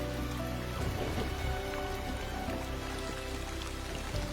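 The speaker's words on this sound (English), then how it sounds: "As the rains roll in," Rain falls steadily across the African bush of Luangwa at the start of the rainy season, a dense, even patter of drops on foliage and ground, moderately loud and continuous with no voices.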